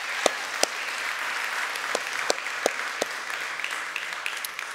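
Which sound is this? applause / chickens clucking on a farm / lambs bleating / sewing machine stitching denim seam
applause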